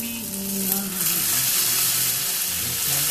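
Green and red chilies fry with garlic in a pan for a Thai steamed fish recipe, making a loud, steady, close sizzle that fills the whole moment.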